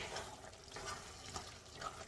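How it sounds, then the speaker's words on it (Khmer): Spaghetti sauce stirred in a pan, a steady soft scraping swirl with faint sizzling, close and quiet with no talk. "You stir it well."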